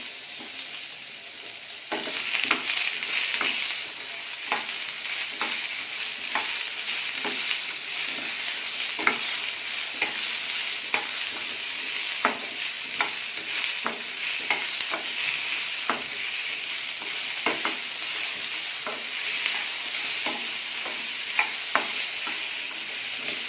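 Two large tomatoes sizzling in an oil-fried base for green chicken gravy, a steady moderate frying hiss with regular spoon or spatula taps and scrapes throughout, no voices.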